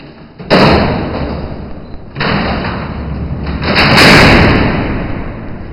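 Alcatraz prison cell doors slamming shut, a few heavy metallic bangs with loud rumbling reverberation through the cellblock.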